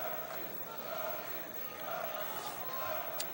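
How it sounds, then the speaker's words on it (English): A steady murmur of crowd noise fills a high school wrestling gym at the 1986 state intersectional finals. The buzz stays at a constant, fairly distant level with faint voices rising now and then. "Crowd still buzzing as a result of that pin by Zito."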